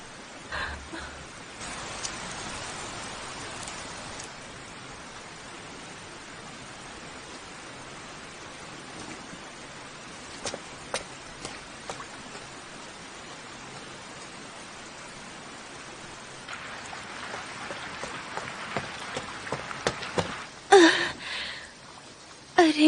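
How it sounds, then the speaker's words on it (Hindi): Steady rain falling in a broad, even hiss that runs the whole stretch, with a few sharper drips and patters near the end and faint background sounds beneath. "बारिश शुरू हो गई है।"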